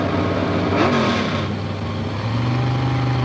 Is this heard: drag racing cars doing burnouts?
yes